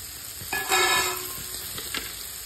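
Vegetables with green chili fry in a pan for a leftover-rice dish, a soft, close sizzle with a brief louder hiss and a few light stirring scrapes, quiet and without talk.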